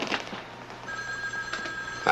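An office telephone rings in a newsroom with an electronic trill, giving short bursts at the start and again near the end, fairly clear over a quiet room with no talk.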